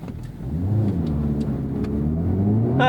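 An Acura Integra Type S engine revs hard and climbs steadily through an acceleration pull, loud and close, with a rising drone that holds throughout.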